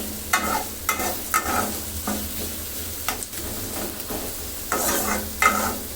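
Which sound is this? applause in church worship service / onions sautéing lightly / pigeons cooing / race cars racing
onions sautéing lightly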